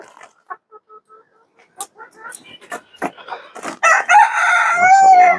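Chickens kept by a city farmer cluck in short, scattered bursts, then a rooster close by lets out a loud, drawn-out crow.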